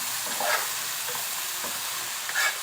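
Rice and vermicelli stir-frying in a pan on a home stove give off a steady soft sizzle, with a couple of brief scraping stirs near the start and end.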